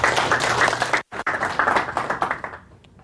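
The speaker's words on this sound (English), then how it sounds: "So big round of applause for Des Traynor." A short burst of audience clapping greeting a guest speaker at a startup incubator talk, brisk and fairly close, with a brief gap mid-way before it fades out.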